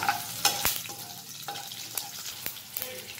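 Curry leaves and green chilies sizzling in hot sesame oil with mustard seeds, a close crackling hiss punctuated by a series of sharp spatula scrapes and taps against the pan.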